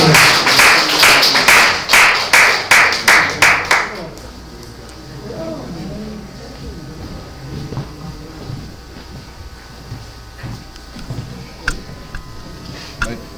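A church congregation at an Easter seniors' service claps in unison to welcome a deacon, about a dozen loud rhythmic claps over four seconds, then the clapping stops and a quiet room with light shuffling and taps follows.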